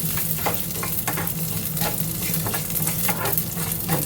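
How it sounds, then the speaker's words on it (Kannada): Curry leaves frying in oil in a pan during sambar preparation, a loud close sizzle with rhythmic scraping strokes of stirring at regular intervals, no voices. "ಇದನ್ನು ಸೇರಿಸಿ ಸ್ವಲ್ಪ ಗಮ್ಮಂತ ಹುರ್ಕೊಳ್ಳಿ"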